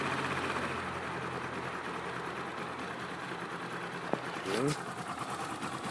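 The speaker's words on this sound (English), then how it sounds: "See, now we can turn the thing off and engine's running." Skyteam V-Raptor 250 motorcycle engine idling steadily at close range, a continuous low rumble with a brief click and a short spoken word near the end.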